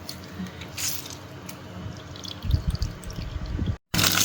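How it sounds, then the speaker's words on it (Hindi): Water is squeezed by hand out of stuffed bitter gourds (karela), giving soft squishing and dripping trickles up close, with a wetter burst of squeezing toward the end. "ये इस तरह करके आमने निचोड़ लेने हैं, इनका पानी निचोड़ लेंगे।"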